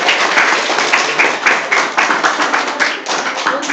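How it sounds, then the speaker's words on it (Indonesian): A classroom of children claps for a classmate, dense and steady applause filling the room nearby for a few seconds. "Ya, tepuk tangan buat teman."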